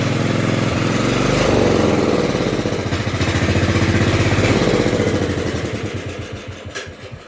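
A close, loud small engine on an LT1000 lawn mower runs rough with a carburetor clog, then slows as the throttle drops toward idle, its chugging pulses spreading out and fading as it stalls.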